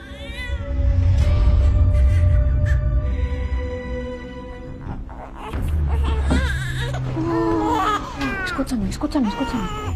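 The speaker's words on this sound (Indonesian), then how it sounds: "si bayi akhirnya bisa bernafas dan mulai menangis." A newborn baby cries in loud, wavering wails inside a cargo container at sea, pausing briefly before resuming with sharper, higher cries, close by with low background rumble.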